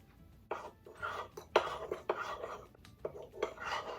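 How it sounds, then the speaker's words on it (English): Spoon stirring hot coffee into melting chocolate in a pot for German chocolate cake, giving soft irregular scraping and clinking strokes close by, with quiet gaps between bursts and no talking. "And give it a quick stir."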